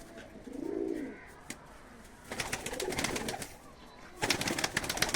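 Pigeons of a high-flying breed, a female among them, give soft low cooing calls with a few brief fluttery sounds, close by and moderately loud against outdoor background noise.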